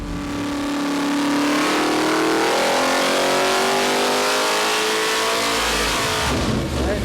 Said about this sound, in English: nothing sounds better than a Hemi